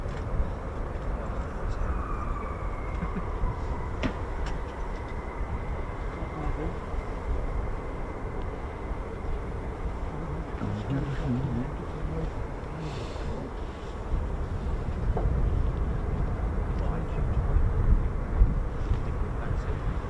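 Fighter jets, F-15s and F-35s, taxiing on the airfield at RAF Lakenheath, a steady low engine rumble and whine at a distance with wind buffeting the microphone, swelling a little louder toward the end.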